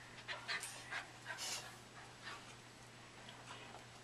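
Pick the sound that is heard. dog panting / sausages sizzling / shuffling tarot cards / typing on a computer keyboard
dog panting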